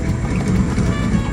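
A boat engine idles on a fish farm in Kenya, a low steady rumble close by, mixed with wind and water noise.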